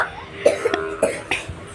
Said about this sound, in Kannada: ಕೆಮ್ಮು ನೋಡ್ರಿ ಸಂಜೆ ರಾತ್ರಿ ಚಾಲು ಕೆಮ್ಮು